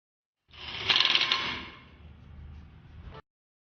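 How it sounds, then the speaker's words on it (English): A ratchet tightens the 8 mm bolts on a Suzuki engine's strainer cover, a brief close burst of rapid metallic clicking followed by a softer grinding mechanical whir before stopping abruptly. "tighten all the 3 bolts of 8 mm."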